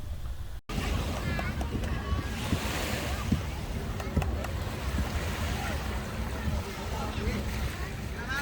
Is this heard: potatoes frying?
no